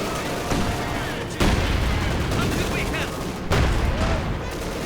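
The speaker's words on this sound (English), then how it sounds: "Grenadiers for some reason charging straight into submachine gun fire." Sustained submachine gun fire in a Company of Heroes 2 battle, a dense continuous rattle of automatic bursts with louder surges, mixed with other battlefield gunfire and noise.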